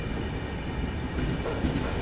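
The Dharmavaram-Nanded weekly express on its inaugural run stands at a halt at a station platform, giving off a steady, loud rumbling drone with no distinct clatter.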